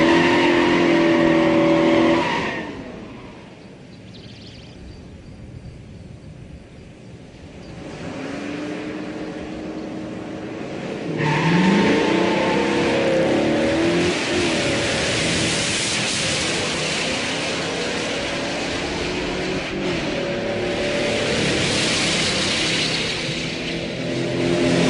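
A classic big-block muscle car launches hard down a drag strip, its engine roaring loudly, easing briefly, then building into a long, sustained pull at high revs with no voices.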